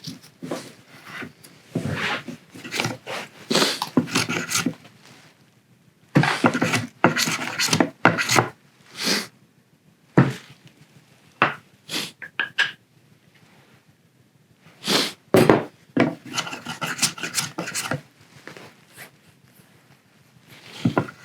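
Wood being shaved down to the marking line while a Japanese scarf joint is shaped in traditional carpentry; repeated close, raspy scraping strokes come in uneven bursts separated by short pauses.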